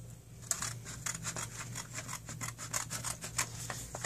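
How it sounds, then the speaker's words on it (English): Scissors snipping through paper close up, a series of short rasping cuts in an irregular rhythm, quiet and alone over a low hum. "taking the scissors, we're just going to cut straight through here"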